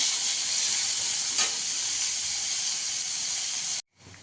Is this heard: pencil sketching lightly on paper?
no